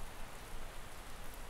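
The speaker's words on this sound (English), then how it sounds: "Let's get out of this rain." Steady rain falls as an even, close hiss of countless drops that continues without a break, with no voices.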